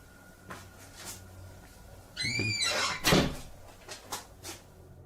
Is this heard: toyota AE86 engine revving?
no